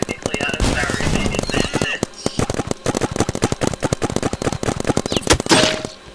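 Rapid continuous gunfire in a video game, loud machine-gun bursts rattling almost without pause, with people talking over the shooting.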